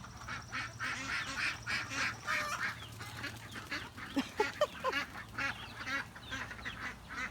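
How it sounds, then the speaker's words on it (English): Ducks on a farm, among Royal Palm turkeys, give a lively run of loud honking quacks in quick overlapping bursts, with sharper calls clustered near the middle, fairly close and with no talk. "There go the duckies. They're everywhere."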